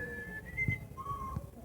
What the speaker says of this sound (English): Poco, can you whistle us a tune?